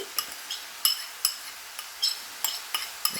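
A spoon stirs cooked pork with peppers, onions and garlic in a pan, giving sharp metallic clinks and scrapes at an irregular beat over a faint, low sizzle.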